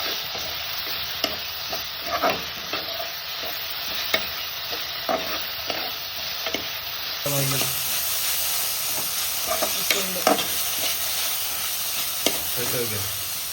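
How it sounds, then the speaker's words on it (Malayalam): Agathi flower thoran is stirred in a pan, a spoon scraping in repeated short strokes over a soft steady sizzle, close and fairly quiet, with no talking. "ഇളക്കി കൊടുക്കുകയാണ്."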